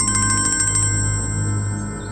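A phone ringtone rings loudly in a quick run of repeated electronic tones over a low steady hum, then stops, leaving the hum alone.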